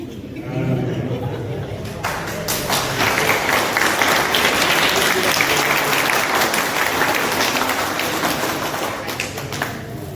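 A crowd at a welcome ceremony for athletes preparing for the Olympics breaks into sustained, loud applause that swells and holds for several seconds, with some chatter and laughter mixed in.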